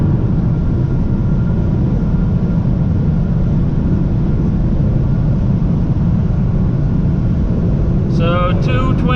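Steady, loud engine drone and wind roar from a BMW 1 Series 114i tuned to Stage 1 with 225 hp, held in fifth gear at over 220 km/h on a top-speed run, with someone talking briefly near the end.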